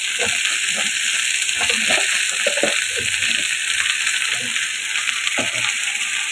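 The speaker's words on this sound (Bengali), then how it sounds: "করলা, আলু সব কিছু আমি এখন একই রসুন এবং পেঁয়াজের সঙ্গে ভেজে নেব।" Bitter gourd and potato fry with garlic and onion, a continuous bright sizzle with intermittent stirring scrapes and clatters close by.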